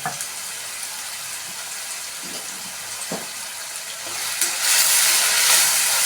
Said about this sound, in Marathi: आता चांगलं कांदो ना तेला शिजवून घ्यायचं